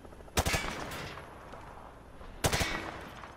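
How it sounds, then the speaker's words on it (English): Gunfire at shooting-range targets in Modern Warfare 2, two separate short bursts of rapid shots, loud and close, with a quiet gap between them. "Grab that weapon off the table and fire at the targets behind you."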